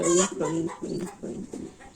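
Chickens clucking close by on a farm in the Kenyan countryside, a run of about five short throaty clucks in quick succession, with no talking.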